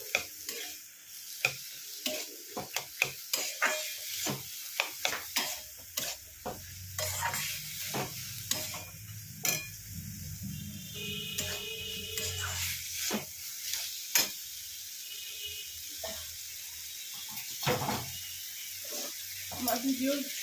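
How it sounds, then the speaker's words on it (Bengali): Chana dal being sautéed in a pan, with steady sizzling under repeated sharp scrapes and clicks of a spatula stirring against the metal, close and moderately loud, and a faint voice in the background. "ভালো করে এটার সঙ্গে এটাকে কষিয়ে নেব।"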